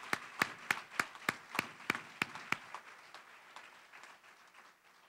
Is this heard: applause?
yes